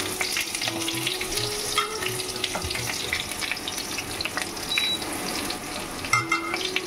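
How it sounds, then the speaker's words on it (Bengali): Spring onion whites fry in a pan, giving a continuous close sizzle with soft scraping from stirring and a few clinks, steady and moderately loud throughout. "তারপরে একটু 15 সেকেন্ড মতন ভাজবে আর স্প্রিং অনিয়ন দেবে, হোয়াইট পার্টটা"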